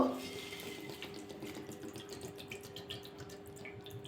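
Water trickles steadily into a pan set on a gas stove, a soft continuous pouring and splashing that stays moderately quiet for a few seconds, with no voices.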